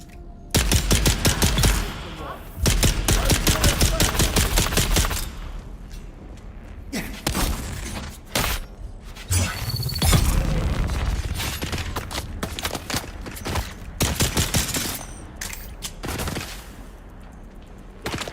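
Pistol fire in Dune Awakening, loud rapid bursts of shots in dense clusters, followed by sparser single shots and impacts amid game noise.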